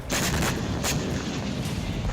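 Heavy blasts from Israeli air strikes in southern Lebanon, two or three sharp loud bursts in quick succession followed by a rumbling decay, no voices.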